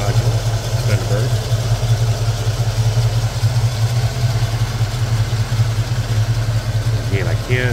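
A 1979 Ford Thunderbird engine running with a slight, steady low exhaust rumble from the rear, continuous throughout, heard nearby under a voice.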